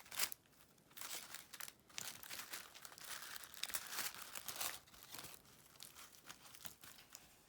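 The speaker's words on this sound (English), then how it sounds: "very carefully I'm just going to tape that pipe cleaner into the flower" Green tape is wrapped to fix a pipe cleaner stem onto a tissue paper flower, producing close, quiet crinkling and tearing rustles in irregular bursts.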